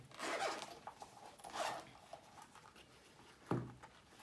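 A zipper is drawn open on a small storage case for a JBL Clip 3 Bluetooth speaker, three quiet, brief zipping strokes close by in an otherwise hushed room.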